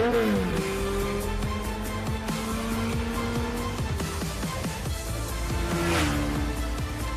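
A 2021 TVS Apache RR 310 motorcycle engine revving steadily at its launch, rising and falling exhaust pitch with a brief shift-like drop, loud and continuous without talk.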